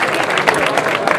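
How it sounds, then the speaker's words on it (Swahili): Audience applause at a talk on tips for success as a student, a dense steady wash of many hands clapping that fills the whole moment without letting up. "makofi hiyo"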